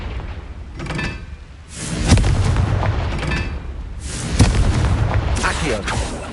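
Confringo blasting spell in the Hogwarts Legacy video game, loud booming explosive bursts about three times over a few seconds amid busy combat noise, with a voice speaking around them.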